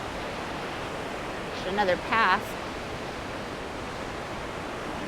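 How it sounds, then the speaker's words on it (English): A secondary waterfall near Hidden Falls at Jenny Lake in Grand Teton National Park gives a steady, broad rushing roar throughout, with a person speaking briefly over it. "And then there's a secondary waterfall right here."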